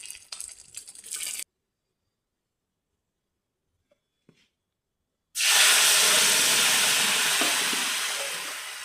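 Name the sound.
curry leaf tomato mixture frying and boiling in pan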